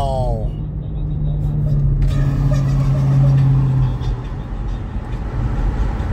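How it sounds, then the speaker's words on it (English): A truck drives past with a loud, rumbling engine roar that swells and then fades, followed by a steady road-noise drone. "That was that truck making that noise."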